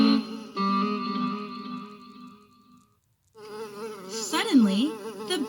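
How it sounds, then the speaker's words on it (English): A lazy fly buzzes close by in a sustained, wavering drone that drops to silence briefly and then resumes with rising and falling swoops, heard alone without talk. "The only sound was the buzz of a lazy fly."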